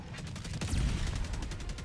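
Rapid autocannon fire in the Helldivers 2 video game, a dense run of heavy shots rattling along loud and close with no pause.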